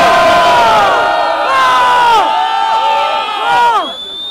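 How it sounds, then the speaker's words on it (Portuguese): A large crowd at a 2017 state semifinal battle in Botafogo cheers and screams loudly, with high shrieking voices rising and falling in waves throughout. "Barulho pra Johnny, Botafogo"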